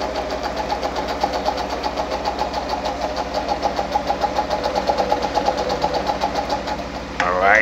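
A Pfaff 230 treadle sewing machine running a straight stitch at its longest stitch length, giving a steady, rapid mechanical clatter that fills the clip at close range, with brief speech near the end.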